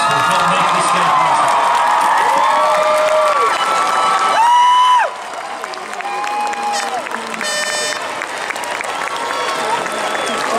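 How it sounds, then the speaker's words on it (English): A crowd at a UCLA Psychology Department commencement applauds and cheers loudly, with whoops and shouting mixed in, before the clapping thins to a softer, steady patter. "give a big hand of applause to their families"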